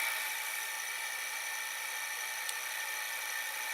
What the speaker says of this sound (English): Right now it's turning, but you can hear the capstan motor like a rubbing